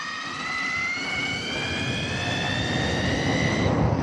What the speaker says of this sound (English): that's me easing on the throttle